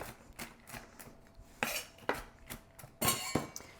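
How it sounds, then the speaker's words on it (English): Pecans being chopped with a knife on a board, a series of irregular close taps and thuds, a few louder strikes, with no talking. "I'm just going to chop them up."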